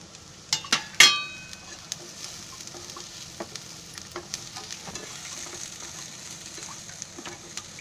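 Low sizzling as masala with fresh grated coconut roasts in a pan, with scattered clinks and scraping as it is stirred, a few sharper knocks early on, no voices.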